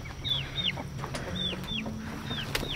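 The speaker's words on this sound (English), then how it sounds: "Hello, birds." Chickens on a homestead cluck steadily in short repeated calls, close by and alone with no voices over them.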